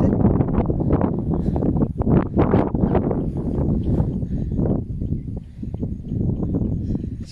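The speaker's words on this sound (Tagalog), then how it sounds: "sobrang lakas ng hangin" Strong wind buffeting the microphone on a mountain summit above a sea of clouds, loud irregular rumbling gusts that keep surging and dipping without pause.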